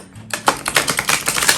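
Oracle cards shuffled by hand, a quick run of dense, crisp flutters and taps close by, starting after a short quiet lead-in and continuing steadily.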